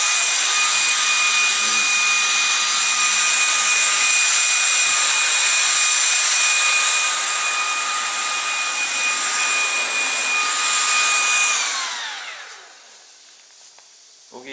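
An LG CordZero A9 cordless vacuum cleaner runs close by with a loud, steady high-pitched whine and rushing airflow, then winds down near the end.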